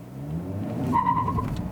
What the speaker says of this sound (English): I'm going to do a little bit more of an aggressive clutch dump.